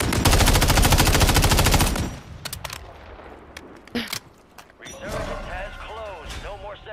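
Video game gunfire opens with a loud, sustained automatic burst, followed by scattered single shots and thuds, and a player's voice comes in near the end.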